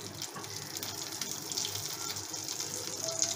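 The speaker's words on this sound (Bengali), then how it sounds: "সর্ষের তেল দিয়ে দিলাম কড়াইতে 2 চামচ।" Two spoons of mustard oil heating in a wok, heard as a steady, faint hiss and gentle sizzle that runs evenly throughout.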